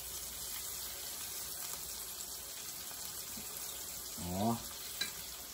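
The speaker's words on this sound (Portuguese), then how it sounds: "Eu vou fritando aqui" A steady frying hiss fills the background, with a brief rising voice-like sound and a short knock near the end.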